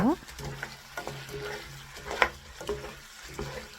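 A spoon stirs glazed half-dried pollock with sesame seeds and chopped chili in a pan, giving soft scraping and light sizzling up close, with a brief clink and a faint voice now and then.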